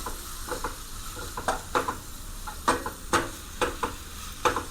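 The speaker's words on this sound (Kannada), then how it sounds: "ಈ ಟೊಮೆಟೊ ಅಲ್ಲ ಸಾಫ್ಟ್ ಆಗೋ ತನಕ ನಾವು ಚೆನ್ನಾಗಿ ಹುರ್ಕೊಬೇಕು" Tomato fries in a pan for momo filling, with a soft continuous sizzle broken by a steady series of sharp spatula scrapes and taps against the pan.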